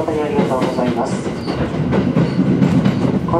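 A JR 701 series train runs on the Ōu Main Line between Aomori and Daishaka, heard as a constant close rumble with rhythmic wheel clatter and faint squeals, with a voice faintly audible.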